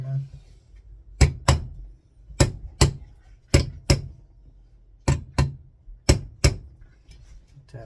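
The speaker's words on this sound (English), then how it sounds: "Tap them in so they stay in place." Hammer tapping pins into a Stevens Model 325c part: paired sharp metallic taps repeated about five times in an even rhythm, close and crisp, with quiet pauses between pairs.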